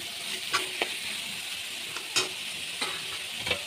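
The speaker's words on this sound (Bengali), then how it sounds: "মশলার সঙ্গে ভালো করে কষিয়ে নেবো আলুটাকে" Potatoes stir-frying with spices in a pan, a steady hiss of sizzling oil broken by several sharp scrapes and clinks of a spatula against the pan, close and with no talking.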